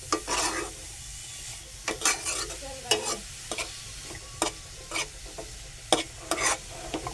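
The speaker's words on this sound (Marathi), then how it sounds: "बघा गाजर मी आता ढवळून घेतोय" Grated carrots for carrot halwa stirred in a hot pan, a series of sharp, close spatula scrapes in an irregular rhythm over a low, steady sizzle.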